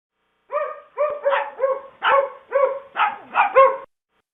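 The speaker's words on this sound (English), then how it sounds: "These are two dogs barking." Two dogs barking together in an artificial mix, a rapid run of about eight loud, close barks in quick succession with no other sound.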